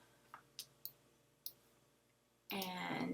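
Computer mouse clicks, a few sharp, quiet taps spaced unevenly, followed by a person starting to talk at the end.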